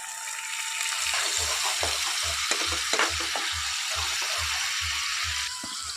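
Ground spices sizzle in a pan of frying aloo paneer masala after a splash of bowl-rinsing water, a steady hiss with a regular low thumping of stirring strokes underneath, close and fairly loud.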